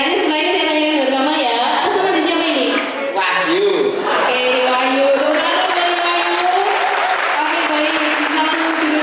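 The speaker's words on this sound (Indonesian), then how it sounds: "Tepuk tangan buat Wahyu" A school seminar audience claps and cheers for a student, producing a long, loud burst of applause with crowd voices and some laughter mixed in, steady throughout with a brief dip near the middle.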